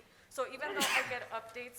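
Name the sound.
sneeze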